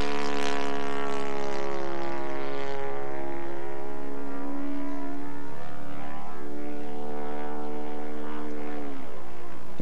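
Aerobatic propeller airplane rolling back to upright with right rudder applied, its engine droning loud and steady throughout with a shifting harmonic pitch as the maneuver changes, no voices.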